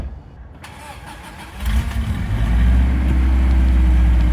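A green Subaru Loyale car cranks briefly and fires up, then settles into a steady, loud, close idle rumble with no talking.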